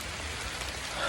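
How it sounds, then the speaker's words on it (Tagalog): Steady rain pours down on a sacred mountain trail at Mount Banahaw, a dense, even hiss of drops striking surfaces that fills the whole moment without pause. "kaya lang inabot ako ng ulan."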